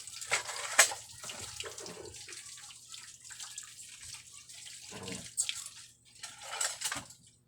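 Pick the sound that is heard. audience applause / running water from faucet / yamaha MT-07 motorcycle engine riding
running water from faucet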